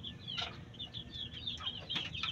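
Kanawayon Hatch chicken clucking in a backyard, soft repeated clucks and chirps close by over faint background noise.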